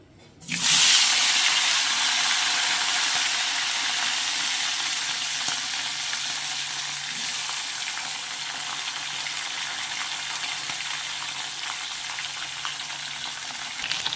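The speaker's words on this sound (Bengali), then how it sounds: "তেল গরম হয়ে গেছে একে একে ট্যাংরা মাছগুলো দিয়ে দেবো" Tengra fish coated in salt and turmeric drop into hot oil in a wok and erupt into a sudden loud sizzle. The frying then settles into a steady, close crackle that lasts to the end, with no talking.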